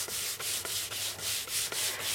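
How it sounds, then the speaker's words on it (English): Rhythmic back-and-forth wet sanding strokes on a guitar body, about eight even passes in quick succession, close and dry-sounding with a hissing scrape on each stroke. "sanding it so it's nice and smooth like this"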